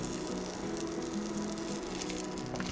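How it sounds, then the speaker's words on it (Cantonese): An egg fries in melted butter in a pan, giving a soft, continuous sizzle with faint crackles and no one talking. "咁而家煎緊蛋嘅時候咧"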